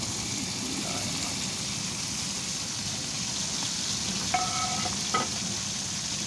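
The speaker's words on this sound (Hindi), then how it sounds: "सबसे पहले हरी मिर्ची ऐड करते हैं, बिस्मिल्लाहिर्रहमानिर्रहीम, और इसके साथ ही टमाटर ऐड कर देते हैं" Green chilies and tomatoes sizzle and fry in a pan with a steady, close hiss, and a few faint clinks come near the end as the pan is stirred.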